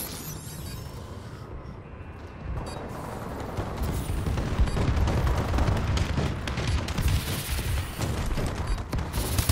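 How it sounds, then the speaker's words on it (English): Bombing run explosions in the video game Call of Duty Advanced Warfare: a dense, continuous rumble of blasts and booms that swells and stays loud, with scattered sharper cracks throughout. "Friendly bombing run incoming."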